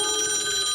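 A telephone rings in a short, steady, bright tone that stays loud and continuous.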